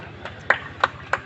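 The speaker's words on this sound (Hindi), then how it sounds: "तालियां" A handful of separate claps ring out at a statue unveiling ceremony for a martyred soldier as a minister is welcomed, four sharp hand claps spaced irregularly over low room murmur.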